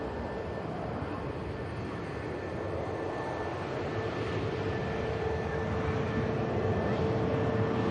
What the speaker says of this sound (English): Rather steep climb for the Embraer